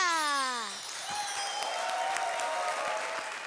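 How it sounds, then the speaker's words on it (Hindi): Studio audience applause on a comedy show rises after a voice's sliding tone fades, a dense steady wash of clapping that continues evenly to the end. "जोरदार तालियों से स्वागत कीजिए।"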